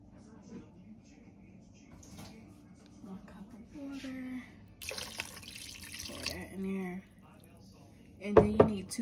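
Water runs from a kitchen tap while someone cooks at home. A short burst of running water sits among quiet kitchen clatter and handling noises, and a louder clunk comes near the end.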